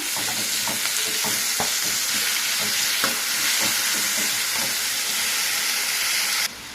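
Onions and tomatoes sizzle and hiss steadily in a hot pan, with occasional scraping and stirring knocks, close and loud.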